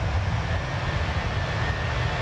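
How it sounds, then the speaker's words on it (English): Airbus A320 engines hum as a steady, continuous broadband drone with a faint high whine, heard at constant loudness from the Fenix flight simulator cockpit with no talking. "It's such a good airplane."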